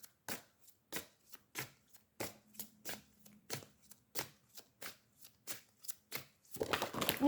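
An oracle card deck is shuffled by hand in a series of crisp, separate riffling bursts with short gaps between them, close and fairly quiet, ending in a busier rustle of cards.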